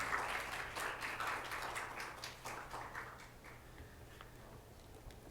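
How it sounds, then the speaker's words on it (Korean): A church congregation at a Sunday service gives the pastor a warm round of applause, a dense patter of clapping that slowly thins and fades as he comes forward. "감사와 환영의 마음을 담아 큰 박수로 목사님을"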